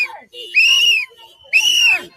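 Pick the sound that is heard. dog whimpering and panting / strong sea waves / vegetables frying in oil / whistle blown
whistle blown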